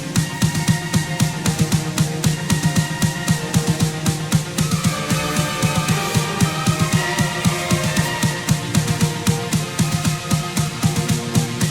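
Mozart's Rondo alla Turca plays on piano alone, lively and brisk, with evenly repeated notes and a steady marching rhythm.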